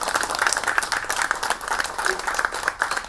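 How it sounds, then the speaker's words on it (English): An audience at a Q&A talk breaks into lively applause, a busy patter of many hands with slight surges and dips in loudness throughout. "give a big clap and greetings to Latin America's"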